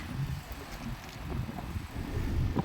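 Steady wind gusts buffet the microphone with a low rumbling roar that rises and falls throughout.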